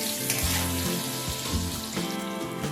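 Potatoes with a pinch of salt fry in a pan for a light fish curry, giving a continuous close sizzle with a soft watery edge and a couple of faint stirring knocks.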